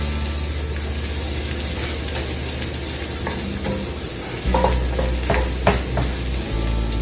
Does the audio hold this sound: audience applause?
no